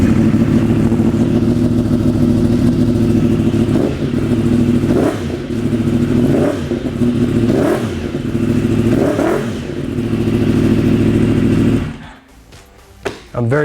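Loud 2015+ Yamaha YZF-R1 sport motorcycle with an Arrow race cat-eliminator exhaust idling with a deep rumble and several sharp throttle blips in a row, then cutting off abruptly.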